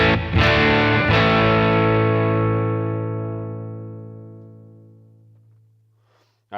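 An electric guitar chord rings out through a volume pedal. It is struck strongly twice, then sustains and fades smoothly to near silence over several seconds, with no talking.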